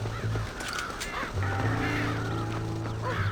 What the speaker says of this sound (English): Scare the crows out of the silo.